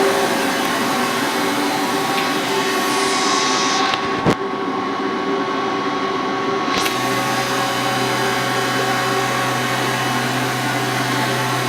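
A 1998 Cincinnati Arrow 1000 CNC vertical machining center runs as its tool setting probe travels past, producing a continuous loud mechanical hum and whir with a brief sharp click and a shift to a lower steady drone partway through.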